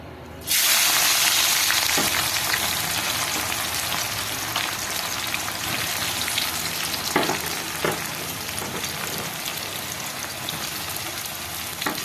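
Sliced onions hit hot oil in a kadai while biryani is being made, bursting into a loud, dense sizzle that settles into a steady crackle with occasional stirring scrapes. No one speaks.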